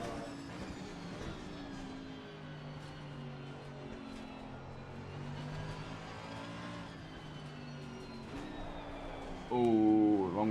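A race car in Assetto Corsa Competizione at night at Silverstone, engine droning steadily with shifting pitch, then a sudden louder rising rev burst near the end as it downshifts, with voices talking under the engine.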